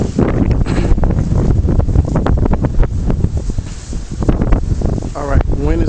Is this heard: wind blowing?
yes